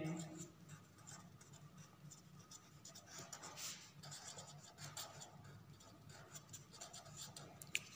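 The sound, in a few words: writing on paper while explaining accounts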